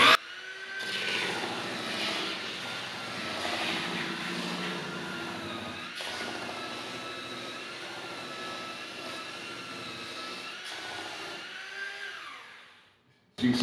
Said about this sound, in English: So what I start out with, I just start with a belt sander.